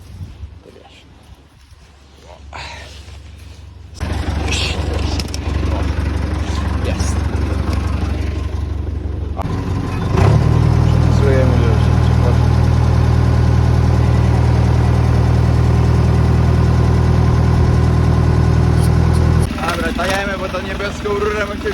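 A small tractor engine runs on a wet farm, idling steadily and loud up close, then revving higher for most of the stretch before settling back near the end.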